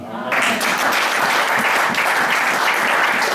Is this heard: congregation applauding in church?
yes